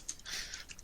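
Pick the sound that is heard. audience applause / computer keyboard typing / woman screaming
computer keyboard typing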